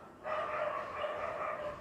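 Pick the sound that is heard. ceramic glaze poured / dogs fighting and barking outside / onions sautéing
dogs fighting and barking outside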